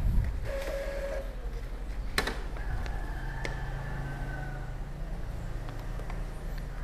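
An Epson L3210 inkjet printer working nearby after a paper jam is cleared, with a low mechanical hum, clicks and short whirring passes of the print head.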